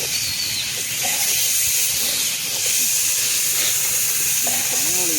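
Curry leaves and onions fry in a pan for village-style cooking, giving a loud, steady hiss and sizzle with faint crackles throughout.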